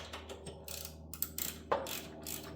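A socket wrench ratchets on the upper torque rod motor mount of a Volvo XC90 or XC60, giving quiet, irregular clicking bursts against a low steady hum in a garage.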